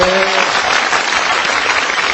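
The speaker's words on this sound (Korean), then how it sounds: "여러분 박수를 보내주십시오" A studio audience applauds steadily, a dense even wash of clapping that fills the short moment without pause.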